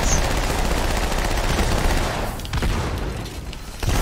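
Gunfire and grenade blasts from the video game Halo: The Master Chief Collection during co-op play, with dense, loud bursts of rapid shots that thin out into scattered reports near the end.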